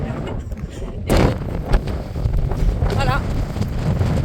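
Gusty wind buffets the microphone on the Camino de Santiago trail between Belorado and Villafría, rumbling loudly with rustling bursts while a person talks over it.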